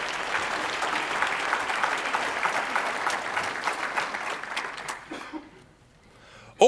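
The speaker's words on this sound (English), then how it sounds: "Let's give them all a big round of applause" Audience applause fills the room, a steady clapping crowd for about five seconds before it fades out, followed by a brief voice at the end.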